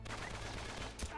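Gunfire in the Uncharted 3 video game, heard as a quick burst of faint, distant shots with a sharper crack near the end.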